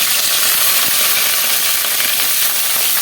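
Sliced onions and curry leaves with fennel seeds fry in hot oil in a kadai, a loud, close, steady hiss and sizzle that carries on unbroken and then cuts off abruptly.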